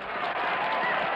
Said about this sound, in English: And that applause, that sounds real good, huh?